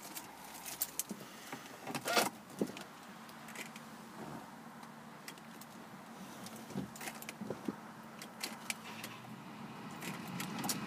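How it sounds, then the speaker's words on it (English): Car keys jangling while starting a red automatic petrol Jaguar S-Type, scattered metallic jingles and clicks at close range over a quiet interior hum, with a few louder clunks. "We are looking at two sets of keys and just getting the car started."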